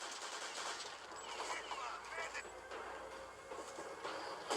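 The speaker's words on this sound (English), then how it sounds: "looks like Benny traded in his Banjo for a Thompson, and he's just lighting them up from the stairway area there" Thompson submachine gun fire in the multiplayer shooter Return to Castle Wolfenstein during a competitive match, quick rattling bursts mixed with other distant gunfire and game effects, with a commentator talking over it.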